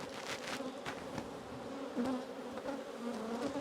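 Honeybees drone in a steady, close buzz as a beekeeper lifts brood frames from a colony, with individual bees swelling louder as they pass near, and no talking.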